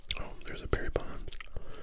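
Close, soft whispering mixed with moist gum chewing and smacking clicks, quiet and intimate with irregular mouth sounds throughout a short stretch.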